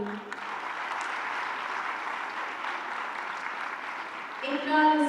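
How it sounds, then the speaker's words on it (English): Audience clapping for graduates at a women's university convocation, steady sustained applause across the hall, ending with a voice and tonal sound rising over it. "These graduates need to hear your clapping."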